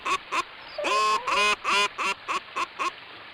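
Cartoonish ducks quack in the Wii game Tales of Terror, a run of about ten loud, nasal quacks in an uneven rhythm, some drawn out and others short and clipped, with nothing else heard.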